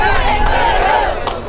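A dense crowd of school graduates and their parents gathered outdoors on an overcast day fills the air with loud, close, continuous chatter and excited calls.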